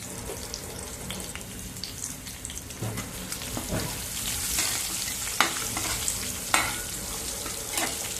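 Sliced capsicum, garlic and coconut are sautéed in a pan, giving a steady close sizzle with stirring scrapes and a few sharper clatters near the end, and no voices.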